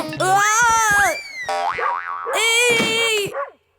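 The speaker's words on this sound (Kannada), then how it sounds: "Hey dog, stop barking." A cartoon dog barks and yips in a few bright, springy bursts, loud and close, with a cartoonish boing-like quality.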